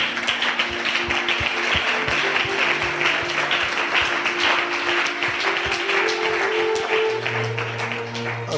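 A church congregation claps in a steady rhythm during a worship service, the sharp claps layered over sustained musical tones that carry on underneath.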